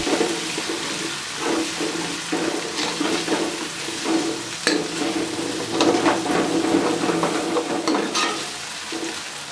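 Potatoes and spinach sizzling and frying in a pan for aloo palak, with green chilies stirred in; steady close crackling and hissing with periodic scraping and stirring strokes throughout, no talking.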